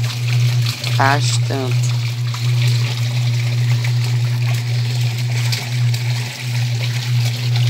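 A Suggar Lavamax 10 kg washing machine washing clothes in water, giving a loud, steady motor hum under sloshing, trickling water, while a person talks over it.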